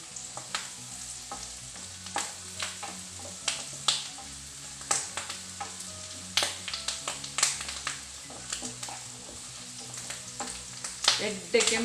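Curry leaves and onion fry in hot oil in a pan, a steady close sizzle broken by frequent sharp crackles and pops throughout, with no talking.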